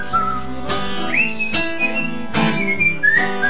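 Whistled melody in a French pop song, a bright sliding tune carried over steady instrumental backing, close and moderately loud throughout.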